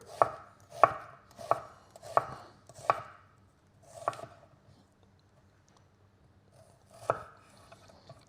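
A knife chops through an onion on a board in about seven crisp, close strikes. Five fall at an even quick pace, then come a couple of slower, separate cuts amid quiet, with no talking.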